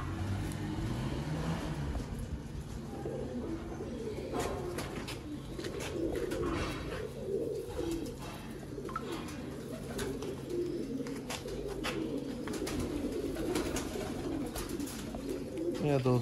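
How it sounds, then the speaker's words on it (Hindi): Old breeder pigeons on a rooftop coo softly and repeatedly in a low throbbing rhythm, close by, with faint traffic and someone talking now and then. "यह दोस्तों एक ब्रीडर पुराना छत्त वाला कबूतर है"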